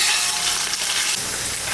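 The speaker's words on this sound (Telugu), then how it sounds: "ఈ గీలో అల్లం వెల్లుల్లి పేస్ట్ని కూడా చక్కగా ఫ్రై చేసుకోండి" Ginger garlic paste sizzles steadily in hot ghee for a vegetable pulao, a dense, even frying hiss with faint stirring, close and continuous throughout.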